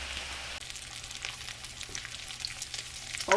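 Thick bacon fries in a pan, a soft, steady crackling sizzle with scattered pops, fairly quiet and close, with no talking over it.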